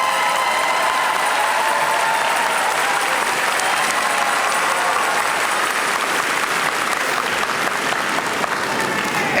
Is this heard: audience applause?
yes